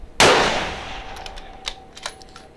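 A single sharp, loud rifle shot cracks out at a long-range shooting match finale and rings off in a decaying tail, followed by a few faint, distant pops and clicks.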